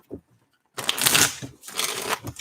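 A deck of tarot cards being shuffled by hand, two bursts of quick riffling flutter close by, preceded by a few faint soft taps.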